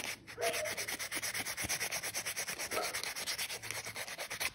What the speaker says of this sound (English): it's kind of what I like about sanding by hand